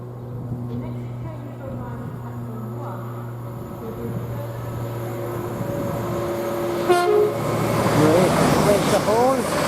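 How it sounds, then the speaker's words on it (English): An LNER Azuma Class 800 train on the King's Cross to Leeds route passes through Grantham station. A low rumble and engine tone swell into a loud rush of passing carriages, and a short horn sounds near the end. "Now we're getting the train pass through here from London King's Cross to Leeds"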